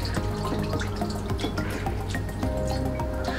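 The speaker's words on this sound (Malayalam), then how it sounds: "ഇതിലേക്ക് നമുക്കൊരു ഒരു ഗ്ലാസ് ഓളം വെള്ളം ഒഴിച്ചു കൊടുക്കാം." About a glass of water poured from a glass into a clay pot over ripe mango pieces for a curry, a close, steady splashing trickle that runs without pause.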